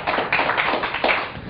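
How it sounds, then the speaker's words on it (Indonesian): Audience applause for Hermawan Kartajaya, founder and CEO of MarkPlus Inc., at a business talk event: dense, steady clapping from a crowd, loud and continuous, with rhythmic swells throughout and no talking. "Kita beri tepuk tangan Pak Hermawan."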